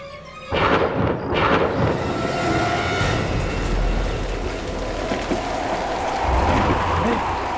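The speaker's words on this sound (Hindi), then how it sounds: "अचानक की हवाएं कैसे चल रही हैं? इतनी तेज हवा" Sudden stormy gusts in a graveyard scene of a horror show, a loud dense roar of wind with thunder-like booms at the start and a continuous rushing wash that swells again near the end.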